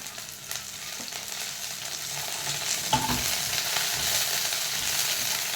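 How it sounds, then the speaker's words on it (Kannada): Mint leaves sizzle in a pan with softened onions while being stirred, a steady close crackling hiss with faint scraping, continuous throughout and without any voices. "ಇದು ಹುರಿದಾದ್ಮೇಲೆ ಇದಕ್ಕೆ ಸ್ವಲ್ಪ ಪುದೀನ ಸೊಪ್ಪು ಹಾಕ್ಕೊಂಡು ಹುರ್ಕೊಳ್ತಿದ್ದೇನೆ"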